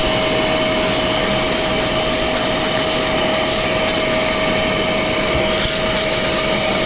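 A steady, loud roar comes from a DataVac electric duster blowing dust out of a very dusty desktop PC, running close and continuously with a high whine throughout.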